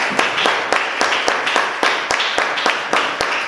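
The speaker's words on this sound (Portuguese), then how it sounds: "Aplauda Jesus." A church congregation claps together at a worship service, a steady run of close, sharp handclaps in loose rhythm that carries on throughout.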